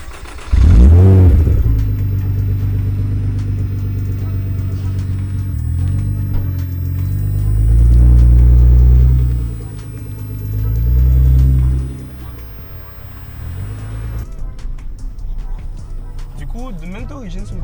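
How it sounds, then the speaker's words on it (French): Nissan GT-R R35 engine revs hard in sharp bursts, then builds through long, loud accelerating pulls with rising and falling pitch, close to the car, with talk between the revs. "D'origine, c'est une voiture qui fait pas mal de bruit."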